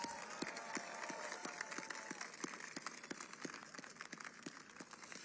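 A crowd applauds at a national menorah lighting ceremony, with scattered sharp claps and steady crowd noise that stay fairly faint and distant and run unbroken for about five seconds.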